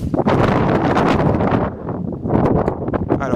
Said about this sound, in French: Il y a un vent latéral droite-gauche